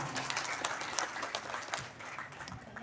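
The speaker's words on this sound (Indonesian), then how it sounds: "kita tepuk tangan buat kita semua" An audience at a community meeting with a local council chairman gives a short burst of applause, with scattered claps at moderate distance and faint voices mixed in.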